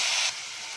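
Crushed onion sizzles in hot oil in a pan while Dal Makhni is being cooked, a loud steady hiss that drops to a softer frying sizzle partway through.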